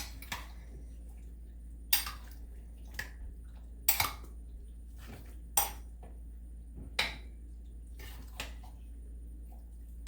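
Chicken tikka masala ingredients stirred in a slow cooker, sparse quiet clinks and taps of a utensil against the pot at irregular intervals over a low steady hum.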